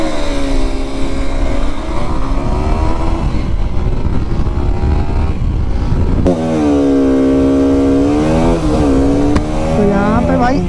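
A Bajaj Pulsar RS200 and a Suzuki V-Strom SX250 rev hard and accelerate in a drag race, their loud engine notes climbing and shifting in pitch, with excited voices talking over them.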